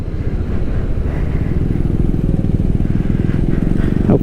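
A Honda CB500X motorcycle rides along a highway, its engine a steady, loud low drone with continuous rumble and road noise throughout.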